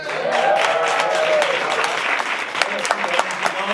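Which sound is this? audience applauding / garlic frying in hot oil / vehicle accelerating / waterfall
audience applauding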